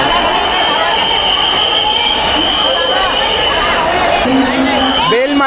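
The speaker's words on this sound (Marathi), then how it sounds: "खूप गर्दी होते इथे जे स्टेजकडे ना" Dense crowd noise near the stage at a Shiv Mahapuran katha in Bhusawal, a steady wash of many voices and movement with a brief tonal sound near the end.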